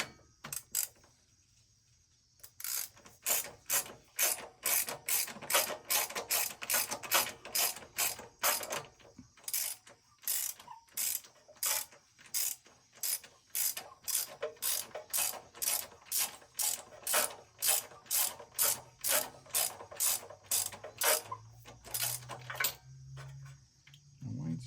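A socket wrench ratchets in quick, even clicks while tightening a fastener on a Generac standby generator during annual service. The clicking runs close and loud in a long steady series with brief pauses.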